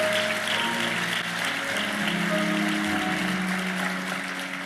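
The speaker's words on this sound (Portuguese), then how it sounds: "vamos aplaudir o Senhor" A church congregation claps together in praise to the Lord, a moderately loud, sustained wash of applause with voices and cheering mixed in around it.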